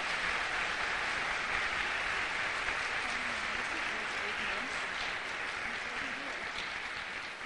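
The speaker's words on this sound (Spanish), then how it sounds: "But let us give a great applause for the organizers." An audience at a testimony event in Mexico City gives a long, dense round of applause for the organizers, steady and continuous without pause.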